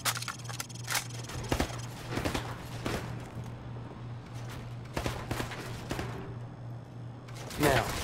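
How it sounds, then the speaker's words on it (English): A rifle fired from the hip on a training range in Call of Duty Modern Warfare Remastered, sharp single shots at irregular intervals over a steady low hum, with faint scrapes and thuds between them. "I want to see you fire from the hip."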